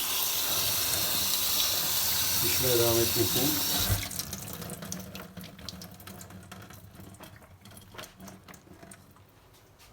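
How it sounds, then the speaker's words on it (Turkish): Cold tap water runs loudly into a sink over cooked linguine for about four seconds, a steady rushing stream, then stops abruptly, leaving faint kitchen clatter and someone speaking. "Soğuk sudan hemen bir geçirdim"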